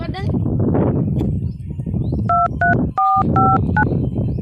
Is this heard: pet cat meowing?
no